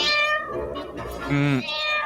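A cat meows in the film Matilda, a drawn-out cry mixed in with a man's reacting speech, moderately loud and close.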